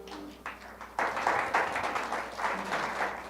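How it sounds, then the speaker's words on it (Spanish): An audience applauds for models at a public presentation in Spanish: after a short muffled stretch, dense clapping bursts in at full strength and keeps going steadily to the end. "Un aplauso para nuestros modelos."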